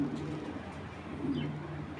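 A racing pigeon coos softly and repeatedly at close range, low rolling calls over a quiet background hum.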